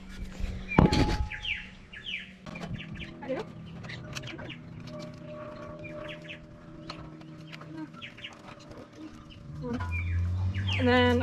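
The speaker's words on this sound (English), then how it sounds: "the ducks are visiting me again" Ducks nearby give scattered quacks and soft calls amid faint background clatter, with a few sharp knocks early and brief quiet speech mixed in.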